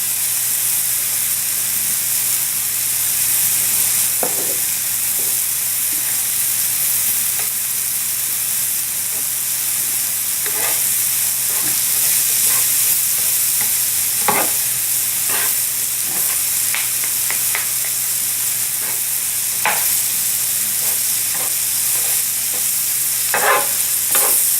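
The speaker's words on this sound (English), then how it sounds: "mushrooms are cooking up fast." Mushrooms seasoned with cayenne pepper fry in a pan, giving a steady sizzle and hiss with scattered crackles and pops throughout, with no talking.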